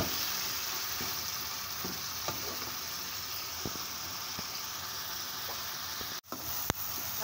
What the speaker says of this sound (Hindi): अब अंडे और चने हम अच्छी तरह से 3 मिनट के लिए फ्राई कर लेंगे